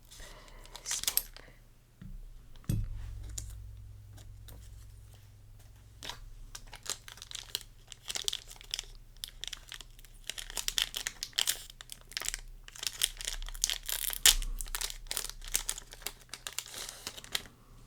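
A Riftbound League of Legends booster pack wrapper crinkles and tears open up close, with continuous rustling foil and plastic crackles and a low steady hum underneath.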